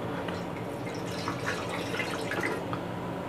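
Water running steadily into a cooking pot, about one and a half cups, a continuous splashing pour with faint drips, close by and without talk.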